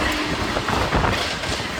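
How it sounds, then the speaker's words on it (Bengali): Tebhaga Express, train 13161 from Kolkata to Balurghat hauled by a Howrah WAP-4 locomotive, rushes past on the rails with a close, continuous roar and wheel rumble, a brief steady passing wash. "সামনে থেকে আসছে train number 13161 Kolkata Balurghat Tebhaga express with Howrah web 4"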